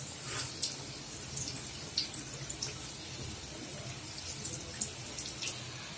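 Fish stuffed with chicken fries in a pan, browning on its second side, giving a steady, close crackling sizzle with faint scattered pops and no talking.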